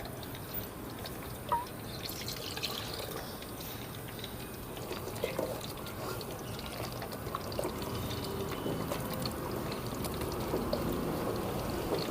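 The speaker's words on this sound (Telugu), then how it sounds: "ఇప్పుడు వాటర్ వేసి కలిపేసుకుందాం" Water is poured into gram flour to make boondi batter for laddu, a soft continuous trickle that runs steadily under faint background noise.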